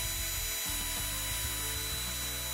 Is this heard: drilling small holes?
yes